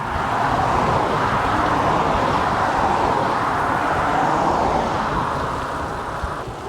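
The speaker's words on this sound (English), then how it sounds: "The trucks." Steady roar of traffic on a busy main road to Sarajevo in Bosnia and Herzegovina, heavy trucks and cars passing continuously, loud and close, with a broad rushing wash that eases slightly toward the end.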